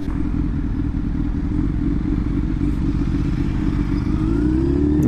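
Cafe racer motorcycle engine running steadily after being restarted following a breakdown, a loud continuous rumbling idle recorded close up.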